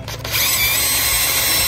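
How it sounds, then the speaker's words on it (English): A power drill spins up and whines steadily as it pre-drills a hole in wood for a screw eye on a privacy shade panel, loud and close. "I'm gonna pre-drill"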